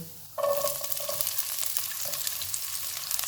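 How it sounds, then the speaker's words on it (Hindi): Chopped garlic and onion hit hot oil on a medium flame for potato Manchurian, a sudden loud sizzle that keeps crackling steadily, with a brief stir partway through. "इसमें चॉप किया हुआ 1 टीस्पून लहसुन डालेंगे और 1 मिनट तक फ्राई करेंगे। एक प्याज डालेंगे।"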